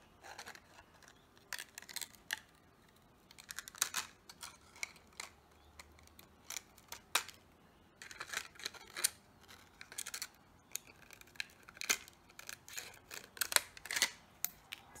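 Scissors make quick, close, irregular snips while trimming the edges of plastic flower petals, a series of small crisp cuts spread through a quiet room with no talking.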